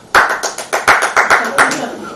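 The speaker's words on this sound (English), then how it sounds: "The clerk in the tank involuntarily applauded" A single person's hand claps during a stage performance of A Christmas Carol, about nine sharp, close claps in a slightly uneven rhythm over two seconds.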